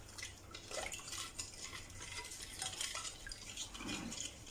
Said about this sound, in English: Just stir it so it loosens up.